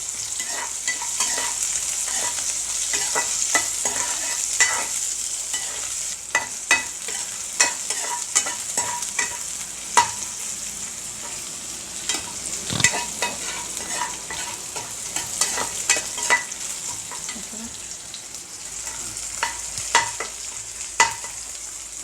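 Onions sautéing in a pan for a drumstick leaves (murungai keerai) fry, with steady sizzling and frequent stirring scrapes and clicks of the spoon against the pan, continuing without talk.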